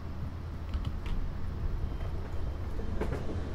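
A 12-car Class 319 electric train arriving at a London Overground station in Train Simulator 2015, a steady low rumble with faint clattering wheels and rail clicks, heard fairly close and without talk.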